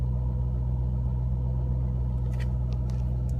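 A 2005 Ford Mustang GT engine idles after a cold start, a steady low rumble that holds level and close throughout, with a few faint clicks near the end.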